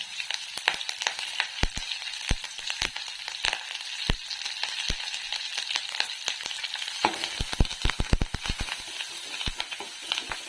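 Crushed pepper, cumin and curry leaves fry in a rasam pan for tomato pepper rasam, a constant bright sizzle broken by frequent sharp crackles and pops that grow denser toward the end.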